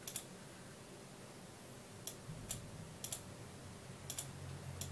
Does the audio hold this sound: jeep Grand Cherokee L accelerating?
no